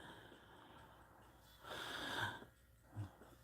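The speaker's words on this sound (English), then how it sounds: "Pardon about the cough." A single harsh, breathy cough bursts out at close range in an otherwise quiet room, followed a moment later by a short, softer throat sound.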